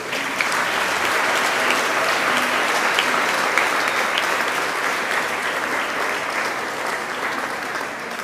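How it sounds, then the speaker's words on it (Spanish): A church congregation at a Catholic Mass breaks into sustained applause, a thick, even roar of many hands clapping close by, loud and unbroken from start to finish. "Un aplauso para ellos."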